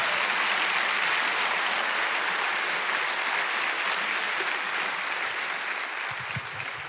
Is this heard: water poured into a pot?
no